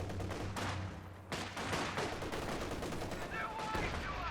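Battlefield gunfire in Company of Heroes 2, a dense stream of rapid shots and bursts that blends into a steady din of combat, with a voice talking over it.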